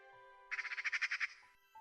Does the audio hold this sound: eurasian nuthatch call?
yes